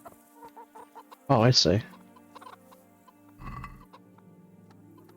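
Chickens clucking in the medieval video game Kingdom Come: Deliverance, a loud burst of clucks near the middle and a softer one later, with faint game ambience and brief talk.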